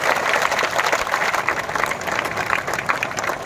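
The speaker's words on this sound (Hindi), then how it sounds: "इनके लिए जरा एक बार जोरदार तालियां बजाइए जो 5 घंटे से यहाँ पे खड़े हैं" An audience at a Hindi poetry recital applauds soldiers who have stood on duty for five hours, a dense, sustained wash of clapping at steady volume with no speech over it.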